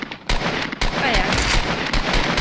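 Rapid gunfire in a Fortnite match, where a sniper rifle is in use. Loud, close bursts of shots arrive in quick succession with brief gaps between them.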